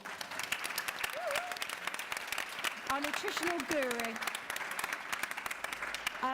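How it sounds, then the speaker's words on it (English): A live audience at a food and cancer panel event applauds loudly and steadily throughout, with a voice speaking over the clapping. "can we get a massive round of applause"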